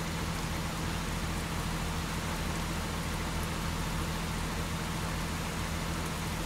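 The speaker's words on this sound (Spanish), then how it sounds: "es nuestra primera lluvia" Steady, dense rain falls in American Truck Simulator, a constant even hiss with a low rumble of a truck engine underneath, lasting throughout with no talking.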